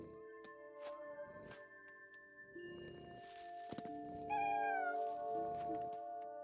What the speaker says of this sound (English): It makes such cute little kitty noises.